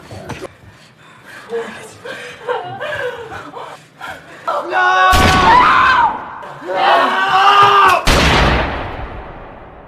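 Gunfire in a violent home-invasion scene from the 2007 film Death Sentence: loud, sharp broadband blasts, with a sustained burst near the middle and another sudden crack soon after, over tense vocal sounds and movement.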